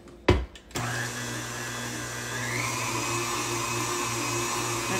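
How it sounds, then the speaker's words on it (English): Electric mixer beating cheesecake batter with eggs, a steady mid-level motor hum starting after a few clunks and running unbroken to the end. "Put two of them in and mix it just a little bit."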